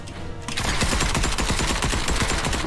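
Rapid automatic gunfire in Fortnite, a dense burst of loud, close shots rattling almost without pause for over two seconds after a brief quieter opening, no voices.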